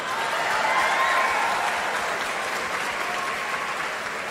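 Steady applause from a crowd at a live outdoor talk event, continuous and fairly loud throughout without pauses.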